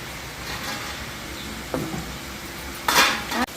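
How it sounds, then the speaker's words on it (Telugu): Karapusa (murukulu) snacks frying in hot oil give a steady low sizzle throughout, with brief clinks of utensils against the pan and a louder stirring scrape near the end. "మనకి ఆయిల్ బాగా వేడెక్కింది కాబట్టి కారపూస కూడా మంచిగా కాలుతుంది"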